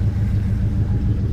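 A 1968 Ford Highboy F250 4x4 truck engine idles in a steady, close low rumble as the vehicle turns around, with no other sounds over it.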